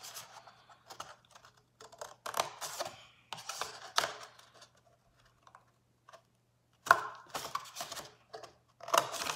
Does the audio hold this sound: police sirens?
no